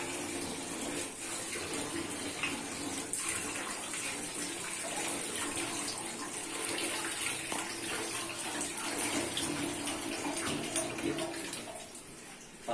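Running tap water rushes steadily over beef trotters being washed for paya, a continuous close splashing flow with no talk.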